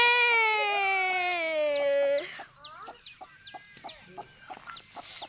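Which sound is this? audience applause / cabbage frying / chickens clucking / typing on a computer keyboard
chickens clucking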